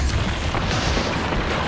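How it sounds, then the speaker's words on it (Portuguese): A heavy, rumbling grenade launcher explosion in Destiny 2, with dense low boom and crackling debris, loud and sustained for under two seconds. "depois usa o lança-granadas"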